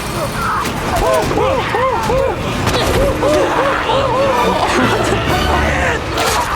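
Gun reloading and gunfire in the video game The Last of Us Part II. Dense, loud bursts of shots and mechanical clatter run continuously, mixed with wailing, warbling cries throughout.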